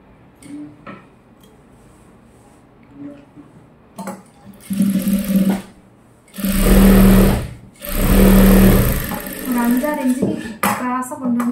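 A sewing machine stitches a gown in loud bursts, with two long sustained runs of motor whirr in the middle, and shorter runs and handling noises around them.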